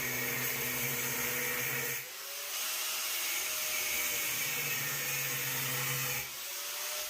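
A power tool whines steadily as it cuts metal in a Ford Transit Mk7 van floor, a loud continuous grinding tone with two brief drops where the cut pauses, no talk.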